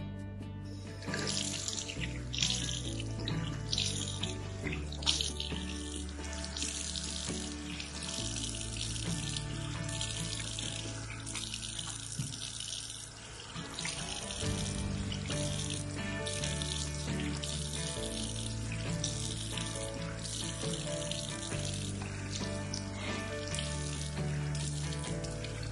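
A tap runs into a sink for skin rinsing with lukewarm water, giving a steady hissing splash that shifts in pitch and texture as hands move through the stream, with a short lull midway, and no voices.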